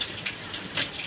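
Steady rain falls outdoors, a dense even hiss of drops with faint pattering on surfaces, continuous and close, with no voices over it.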